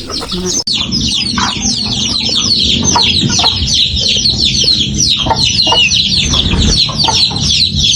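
Chickens cluck busily and continuously, with several birds calling over one another at close range alongside brighter chirps.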